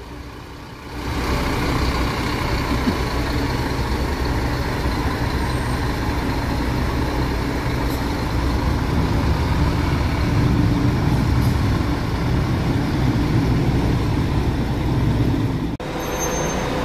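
Viação Garcia coach pulling out of Sorocaba bus station, its heavy diesel engine rumbling steadily close by for most of the stretch with a brief air-brake-like hiss near the end, no talk.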